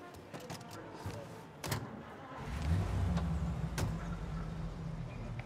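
A car drives in the video game Mafia. A few sharp clicks and knocks come first, then a low engine rumble builds partway through and holds steady and fairly close.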